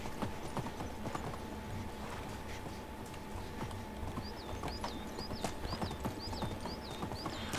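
Horse hooves clip-clopping at a steady walking rhythm in the medieval game Medieval Dynasty, moderately close over a constant ambient bed, with occasional bird chirps joining toward the end.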